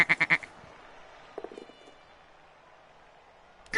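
A goat bleats in the video game Blood Bowl 2, a quick run of four loud, close bleats at the start, then a fainter short bleat, and a final cry cut off at the end.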